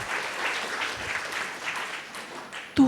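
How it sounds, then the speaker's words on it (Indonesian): Crowd applause at a church worship service, a dense steady clapping that fills the space, ending as a voice begins to speak. "Yang mau berikan tepuk tangan meriah buat Tuhan kita."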